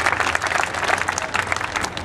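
Audience applause greets a guest at a prize distribution ceremony, a dense, steady burst of many hands clapping, loud and close throughout.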